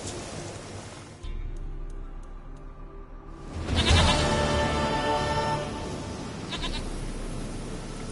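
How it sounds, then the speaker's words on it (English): A goat bleats in The Witcher 3 over an ambient game soundscape of wind and distant surf, one loud wavering bleat swelling up midway before the background settles again. "Goat of mine, dearest, sweetest goat."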